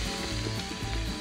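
Samgyeopsal pork belly sizzles on an outdoor BBQ during a fishing trip, a steady close crackle and hiss that runs briefly with no talking.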